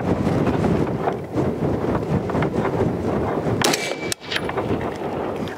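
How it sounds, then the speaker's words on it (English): Strong gusty wind buffets the microphone outdoors at a rifle range, roaring steadily throughout, with a few sharp metallic clicks and a brief dropout near the end. "the wind is pretty gnarly out today"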